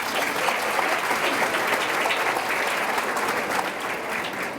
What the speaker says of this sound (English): Let's clap your hands if you're having a good time.